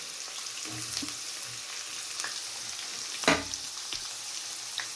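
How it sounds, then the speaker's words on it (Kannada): Onion and green chillies fry in a pan for upma, a steady broadband sizzle throughout with a few soft scraping stirs and one louder clatter near the middle. "ನೋಡಿ, ಈರುಳ್ಳಿ ಹಾಕ್ಕೊತಾ ಇದ್ದೀನಿ. ಹಸಿಮೆಣ್ಸಿನ್ಕಾಯಿ ನಾನು ಹೀಗೆ ಒದ್ರಿಬಿಟ್ಟು ಹಾಕ್ತೀನಿ"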